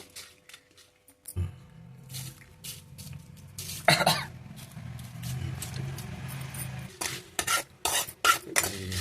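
A spoon stirs amaranth leaves dry-roasting in a pan with no oil, giving a steady scraping rustle with scattered sharp clinks of utensil on metal, fairly close, after a brief silence at the start, with a cough-like burst in the middle.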